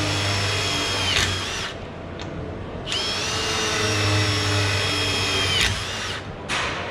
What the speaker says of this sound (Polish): to quickly show you how well you can drill. This is 3 millimeters steel.